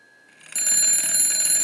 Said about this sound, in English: Now let me check my bell. Yep, still working.